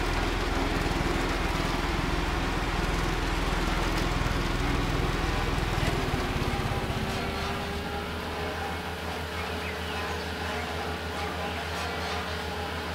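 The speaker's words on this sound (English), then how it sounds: "Gotta use the drill." A drill rig runs continuously in Construction Simulator, a loud, steady mechanical engine drone with a constant broadband roar and no talking over it.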